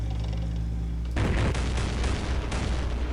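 In the West Front war game, a unit fires after a steady low hum, setting off a loud booming shot followed by a rumbling crackle of further bursts.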